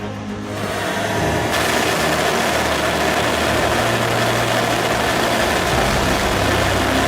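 The Skyroot Kalam 100 solid rocket engine roars through a full-scale static fire test, a loud, broad, continuous rumble that begins abruptly and holds steady throughout.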